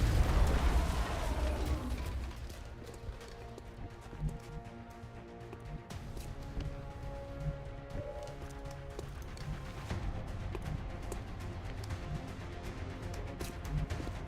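A frag grenade explodes in the video game Long War with a deep, rumbling boom right at the start, which fades into a low, muffled background of crackling and distant thuds, all fairly quiet.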